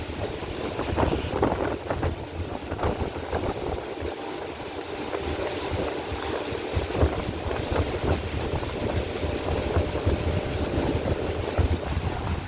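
Heavy rain and wind in Singapore make a dense, continuous roar, with gusts buffeting the microphone throughout.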